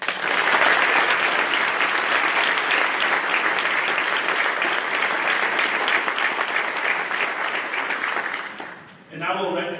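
Audience applause at a high school awards night for award recipient Caitlin: dense, sustained clapping from a full room, steady for nine seconds before fading, with a voice starting at the end.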